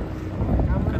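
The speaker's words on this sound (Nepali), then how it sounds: "सरररर हावा" Steady wind blows hard across the microphone high on the Chandragiri hills above Kathmandu near the cable car station, a continuous low rumbling buffet with no pause.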